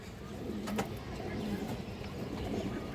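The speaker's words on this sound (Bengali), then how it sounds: "সুন্দর এক প্যার কালদম কবুতর আছে" Kaldam pigeons at a pigeon farm coo softly in low, repeated murmurs against a faint background hum, with one brief sharper sound near the start.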